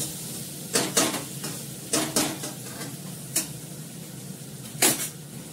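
Green chili sizzles in a pan over low gas. A metal spoon scrapes and clinks against the pan in several short, sharp bursts over a soft frying hiss.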